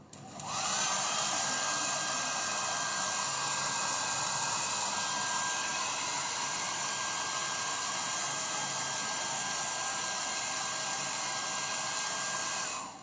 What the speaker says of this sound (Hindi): आपको थोड़ी नॉइज डिस्टर्बेंस होगी because I am using hair dryer